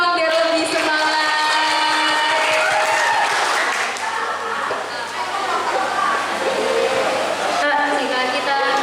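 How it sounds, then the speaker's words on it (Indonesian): Audience at a children's rights outreach event applauding together, a sustained dense wash of clapping that stays loud and steady for several seconds with faint voices mixed in. "Oke, tepuk tangan dulu dong biar lebih semangat."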